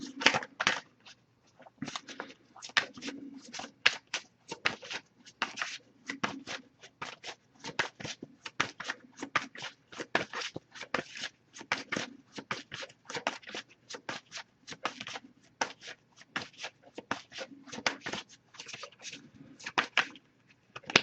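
Tarot cards are shuffled over and over, quick papery riffles and flicks in irregular bursts, close and fairly quiet, with no voices.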